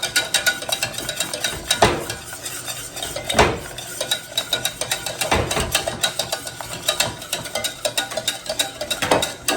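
Whisk beating tempered egg into a pineapple pie filling in a pot on the heat: fast continuous scraping and clinking of metal against the pan, with a few sharper knocks at the rim.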